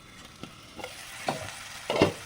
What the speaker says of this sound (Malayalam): ഇനി നമുക്കിതിലേക്ക് നമ്മൾ അരിഞ്ഞ് വെച്ചിരിക്കുന്ന തക്കാളി ചേർത്ത് കൊടുക്കാം ഇനി ഇത് നന്നായിട്ടൊന്ന് ഫ്രൈ ആയി വെക്കാം